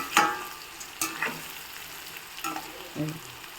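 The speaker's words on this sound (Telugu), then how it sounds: "మధ్య మధ్యలో ఇట్లా కలుపుకుంటూ తిప్పుకుంటూ ఉండాలండి" Pieces of bitter gourd fry in hot oil, a low continuous sizzle punctuated by a few sharp spatula scrapes and clinks as they are turned, close and quiet.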